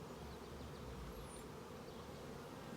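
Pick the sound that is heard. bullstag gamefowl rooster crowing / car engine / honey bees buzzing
honey bees buzzing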